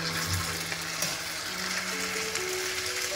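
Vellai appam batter, ladled a little at a time into hot oil, fries with a steady, close sizzling hiss, faint soft tonal music underneath and no talking.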